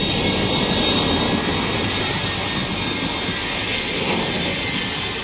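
The Shockwave jet truck, powered by three jet engines, roars at an air show, a loud, steady, broadband jet rush holding throughout with no talk over it.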